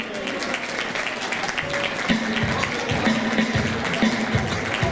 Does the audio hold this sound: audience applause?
yes